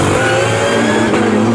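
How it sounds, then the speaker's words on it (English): A Lamborghini GT race car powering through the bomb hole at Snetterton during a GT Cup race, its engine roaring loud and steady as it accelerates past, with no talk. "so much pace cruising forward in that Lamborghini through the bomb hole"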